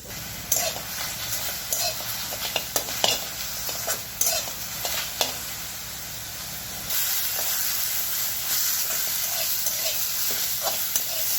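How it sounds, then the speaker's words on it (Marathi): Washed ambadi (roselle) leaves dry-roasting in a pan, wet steamy hissing with repeated spatula scrapes and knocks in the first half, then an even, constant sizzle. "आता मी धुवून भाजून घेणार आहे ही भाजी आधी"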